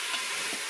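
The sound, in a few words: beef and onions browning in a Cookeo cooker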